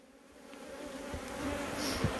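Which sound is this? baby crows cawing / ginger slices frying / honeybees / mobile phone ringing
honeybees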